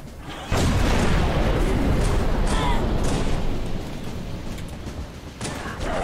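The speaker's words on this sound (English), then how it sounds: "Chief, that gun's been firing non-stop." A heavy gun firing non-stop in the shooter Halo 3: a sudden dense, rumbling roar of continuous booming fire that sustains loudly for several seconds, with voices talking under the barrage.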